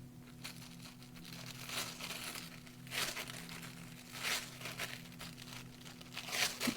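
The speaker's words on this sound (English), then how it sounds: "How not to put on foil." Foil crinkling and rustling as it is pressed onto an art journal page, soft, close and irregular, with a faint steady hum beneath.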